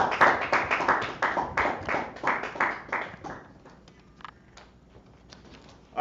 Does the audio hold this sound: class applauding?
yes